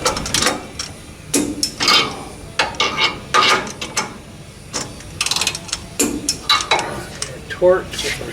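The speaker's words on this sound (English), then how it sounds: "I'll torque these down to like 65 foot-pounds" Torque wrench ratcheting and clicking as it tightens 9/16 U-bolts to about 65 foot-pounds during a suspension setup in a garage shop, a series of loud close metallic ratchet bursts with pauses between strokes.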